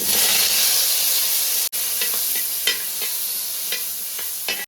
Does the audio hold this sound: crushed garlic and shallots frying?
yes